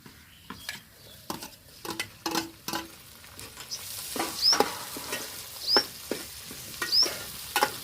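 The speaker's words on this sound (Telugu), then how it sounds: "ఇప్పుడు టమాటా పండ్లు అయితే వేసుకుందామండి." Tomatoes tossed into browned onions frying in a pan for potato kurma, giving soft crackling sizzle with sharp clinks and scrapes of a spoon stirring at irregular intervals, close and quiet with no talk.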